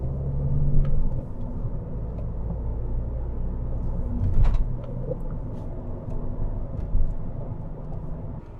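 A car accelerating on an ordinary German road outside the city, with a steady low engine rumble and road noise throughout and a few brief swells in loudness.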